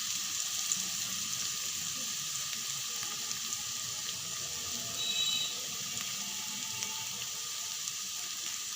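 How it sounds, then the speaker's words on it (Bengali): Chopped carrots with a pinch of salt fry steadily in a pan for noodles, a soft continuous sizzle with faint clinks, no talking. "গাজরগুলো ভেজে নেব।"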